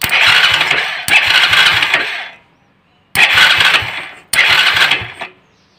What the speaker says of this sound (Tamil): ஸோ இதில் டச் பண்ணிங்கனாவே வந்து உங்களுக்கு வந்து செல்ஃப் ஸ்டார்ட் ஆகணும், கீ போடல அப்படின்னாலும்